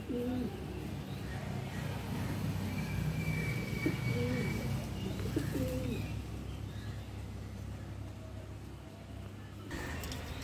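Fantail pigeons coo in low, repeated throaty phrases over a steady background hum, with no talking.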